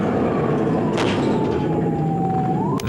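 A police siren in a highway chase wails continuously in a long falling tone that rises sharply at the end, over steady roaring traffic noise.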